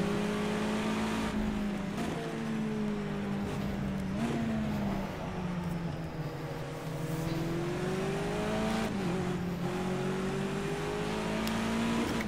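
A touring car in the Project CARS 2 racing game drifts around the Nordschleife, its engine droning loud and continuous with rising and falling revs and some tire squeal.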